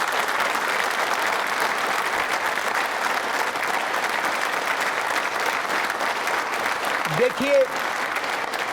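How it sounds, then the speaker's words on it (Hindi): Steady, dense audience applause from a seated crowd at a quiz show with trainee state civil service officers, loud and continuous throughout, with a brief voice speaking near the end. "जोरदार तालियां बजाइए"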